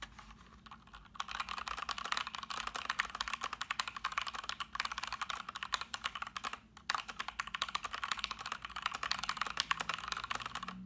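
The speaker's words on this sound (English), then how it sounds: "These are the brown switches, so they are softer sounding than those tactile blue switches on the K1" Typing on a Keychron K2 mechanical keyboard with brown switches, a fast, continuous patter of soft, muted key clicks heard close up and alone, with a brief pause near the start and another midway.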